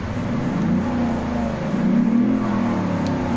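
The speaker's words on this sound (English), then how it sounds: "Whenever I rev it up, it sounds like it's going to be a fast vehicle," A truck engine in the Car Mechanic Simulator video game revs up and down, a steady mid-range rumble swelling and easing twice, loud and close with no talking.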